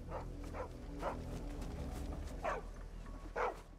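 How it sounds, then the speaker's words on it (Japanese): In Final Fantasy XVI, a dog barks about six times in short, spaced yelps over a low steady game ambience, moderately close and clear. "犬の声。"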